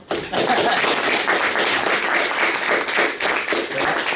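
An audience at a lecture on global law applauds the guest speaker, giving close, dense clapping that holds steady for about four seconds.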